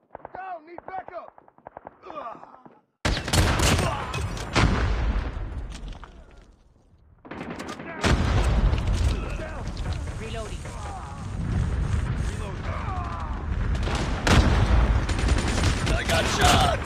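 Mobile first-person shooter match with dense bursts of gunfire, rapid automatic volleys and loud shots stacked close together after a quiet opening, a short lull mid-way, then sustained firing with game voice callouts underneath.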